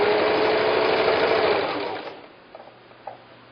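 Sewing machine stitching a quilt block, a rapid mechanical whirring run that stops after about two seconds, followed by a few faint clicks as the fabric is handled.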